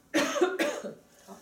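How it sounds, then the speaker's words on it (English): Two sharp coughs in close succession, near and fairly loud, followed by a softer breathy trailing sound. "Cough and blow."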